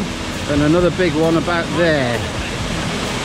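Constant rushing roar of waterfalls on the Pont Melin Fach trail, a broad steady wash of falling water close by, with someone talking over it.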